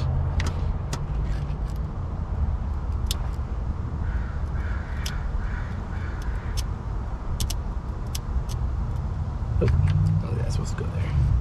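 An AMC Pacer's engine cranks on ignition, a rough continuous mechanical rumble with scattered sharp clicks and a brief surge near the end, heard close with people talking.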